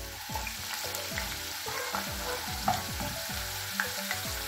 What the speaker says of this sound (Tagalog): Pagsabay na natin yung patatas tsaka carrots.